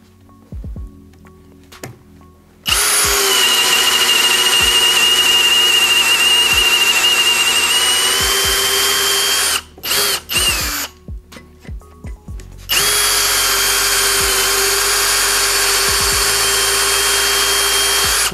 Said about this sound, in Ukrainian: Спробуємо просто на свердлінні спочатку,